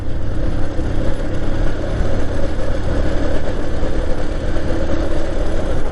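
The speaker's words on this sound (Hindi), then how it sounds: "अब देखो झटका लेना शुरू हो गई है ये बाइक" A Bajaj Platina 100cc motorcycle engine runs steadily and close by, a continuous mid-pitched drone with slight unevenness as it begins to sputter and jerk on reserve fuel.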